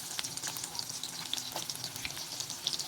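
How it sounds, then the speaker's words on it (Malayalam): Onion and garlic frying in hot oil, a steady bright sizzle with crackling pops close by, no talking. "എണ്ണ ചൂടായ ശേഷം അതിലേക്ക് നമുക്ക് ഉള്ളി വെളുത്തുള്ളിയും ഇട്ട് കൊടുക്കാം."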